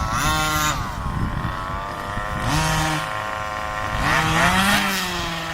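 The 45cc two-stroke engine of a Rovan Baja RC car revs hard as it pulls off with tires spinning, a loud, buzzy, near engine whine rising and falling in pitch across repeated throttle bursts, no talking.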